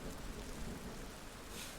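Steady rain falls in a soft, continuous hiss with no break, fairly quiet and close by, with no voices.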